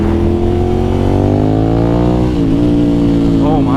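A 2009 Ducati Monster 1100 motorcycle accelerating hard on a ride, its engine note climbing steadily in pitch, then dipping briefly before rising again, loud and close throughout.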